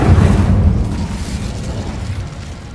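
Incendio fire spell cast in the Hogwarts Legacy video game, a loud low whooshing burst of flame that rumbles and slowly fades over a few seconds.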